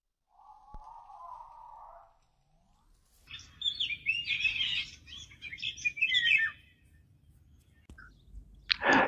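A fig bird, a small warbler, calls from a tree in an orchard during a hunting outing, giving chirps and tweets in short bursts at moderate distance with a brief pause between phrases.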